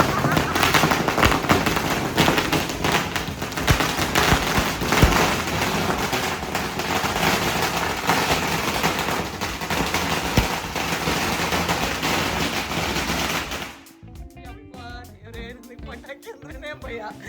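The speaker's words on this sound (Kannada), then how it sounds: "ಪಟಾಕಿ ಅಂದ್ರೇನೆ ಭಯ, ಎಲ್ಲೋಗಿ ಎಲ್ಲಿ ಬರುತ್ತೆ ಅಂತಾನೆ ಗೊತ್ತಾಗಲ್ಲ." Deepavali firecrackers burst in a dense, continuous rattle of loud cracks and pops for most of the stretch, then cut off abruptly into quieter background noise near the end.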